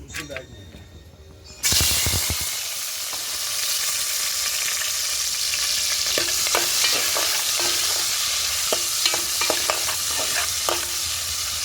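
After a quiet start, onions and tomatoes hit hot oil and burst into a loud sizzle, which continues steadily with scattered scraping and clacking stirs.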